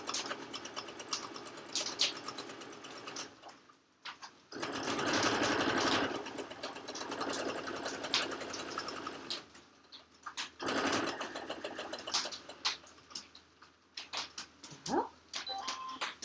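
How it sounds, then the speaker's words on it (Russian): A sewing machine stitches a patchwork pillowcase seam in close, intermittent bursts, pausing and restarting between runs, with quiet handling noise in the gaps. "Поворачиваем, шьем по следующей стороне."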